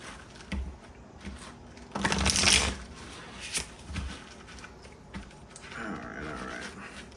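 Soft papery riffles of advice cards being shuffled for a card reading, with a louder flurry midway and scattered quieter taps, close up and faint.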